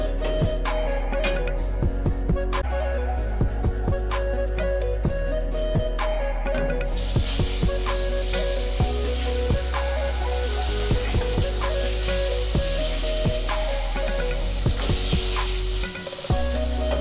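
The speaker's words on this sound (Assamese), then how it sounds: "সেইটো বোলো ধুনীয়াকৈ ফ্ৰাই কৰি লওঁ।" Eggplant frying in a pan, a steady close sizzle with crackling spatters running throughout and brighter hiss in the latter half, no talking.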